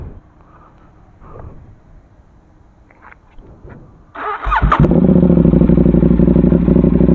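A KTM Duke 790 motorcycle engine starts up after some quiet handling clatter, then roars into a loud, sustained, close revving drone that holds steadily to the end.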